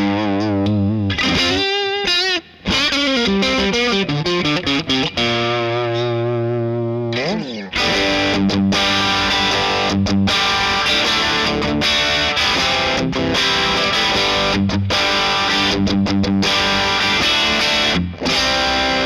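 An electric guitar played through the vintage voice drive channel of a BluGuitar AMP1 at moderate gain, with crunchy distorted chords and riffs ringing out loud and up close, with brief pauses between phrases.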